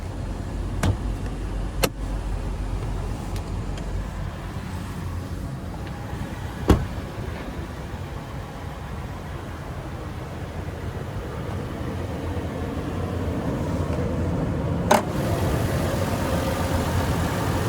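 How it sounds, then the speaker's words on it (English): A 2021 Toyota 4Runner Limited's naturally aspirated 4-liter V6 idles with a steady low rumble under the open hood, punctuated by a few sharp clicks and knocks, with no voices. "And there's that naturally aspirated 4-liter V6."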